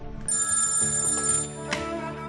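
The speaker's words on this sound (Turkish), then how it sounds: "tam şu anda telefonu çalıyor." A telephone rings close by with a bright electronic trill, one sustained ring of about two seconds, clear and alone with no talking.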